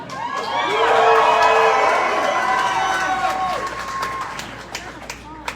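Rally crowd cheering at an evening political rally in the 7th District, a loud swell of many voices shouting and whooping that builds, then fades to scattered claps.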